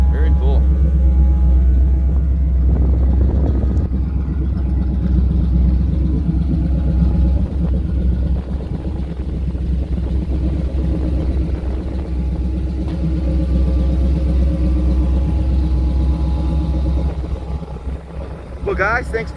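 A 1952 Dodge Coronet with a 350 V8 idles and revs with a deep, steady rumble up close, with people talking over it and wind buffeting the microphone.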